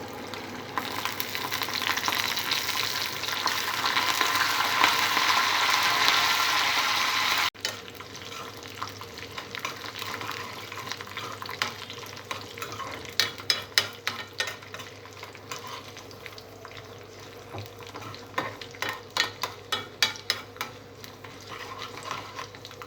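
Tempering of dried red chillies, garlic and curry leaves sizzles loudly in hot oil, a steady hiss that drops away partway through, followed by scraping stirring and sharp clinks of a spoon against the pan.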